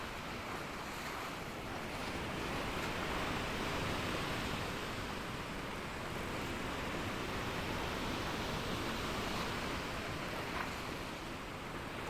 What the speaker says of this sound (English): Waves do feel like they're getting bigger.